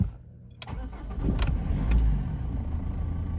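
A BMW E46 car engine cranks with a quick click and catches, then settles into a steady, close idle with no talking.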